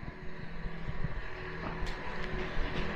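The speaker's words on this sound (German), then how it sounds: "So, hier ist er, der Trecker." A farm tractor, said to sound unhealthy, runs with a steady low rumble and irregular knocks and clatter, close by, in cold weather with wind noise on the microphone.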